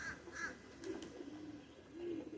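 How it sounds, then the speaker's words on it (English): A crow caws twice in quick succession near a pigeon loft outdoors, moderately distant, followed by softer low pigeon-like calls against faint background noise. "That's a crow."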